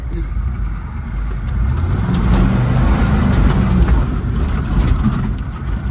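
A revived, once-abandoned square body truck drives along with a loud, close engine roar. The engine swells as it accelerates, joined by road rumble, and a voice speaks briefly over the noise.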